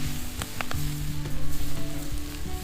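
Potatoes sizzle steadily in a seasoned pan over a campfire while a utensil stirs them, scraping and knocking several times. The sound is close and continuous, with a low hum running underneath.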